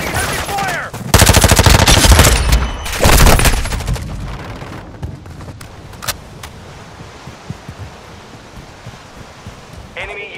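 Heavy automatic gunfire in the online multiplayer game Call of Duty: Modern Warfare II, two loud sustained bursts early on, then scattered distant shots and quieter battle noise.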